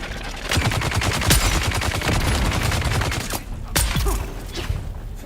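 Rapid bursts of gunfire and minigun fire from the video game Dune Awakening, dense and loud throughout with sharp cracks and booms layered over one another.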